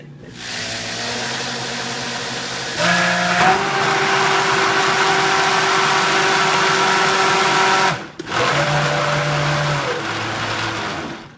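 An electric mixer whipping homemade face cream runs with a steady motor whine that jumps in pitch and loudness partway through, cuts out briefly, then resumes at a lower speed. It is close and loud and heard alone.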